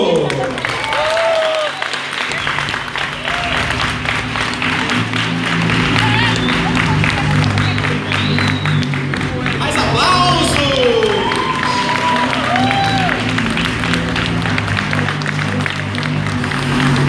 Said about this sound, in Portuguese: Recebam e aplaudam o sócio Leandro!